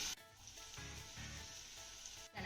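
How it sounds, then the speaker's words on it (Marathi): Chopped capsicum meets softened sautéed onions in a hot pan, giving a faint, steady sizzle with a brief sharper burst at the start and end, quiet and without speech. "आता यामध्ये ना आपल्याला एक चिरलेली शिमला मिरची घालायची आहे."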